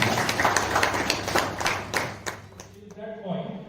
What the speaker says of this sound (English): A big round of applause to all of you also